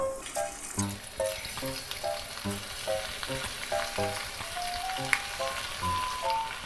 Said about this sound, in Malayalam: അപ്പോൾ ഇത് വറുക്കാൻ ആവശ്യമായ വെളിച്ചെണ്ണ ഞാൻ ഒഴിച്ചിട്ടുണ്ട് നമ്മളിനെ കുറേശ്ശെ വറുത്ത് വരാൻ തുടങ്ങാം